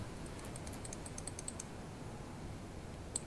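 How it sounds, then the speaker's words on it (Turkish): Rapid clicking and tapping at a computer desk during a League of Legends session, a brisk irregular run of sharp clicks over a steady background hiss, with one louder click near the end. "mouse seslerimi duyabiliyor musun? Veya mouse'a nasıl abandığımı"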